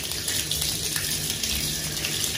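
A hotel bath tap runs fast into a bathtub, a steady hissing gush of water, close and continuous for a couple of seconds with no voices.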